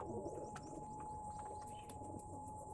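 Pigeons coo softly amid a steady background murmur at a pigeon sale, with a few faint chirps scattered through the continuous ambience.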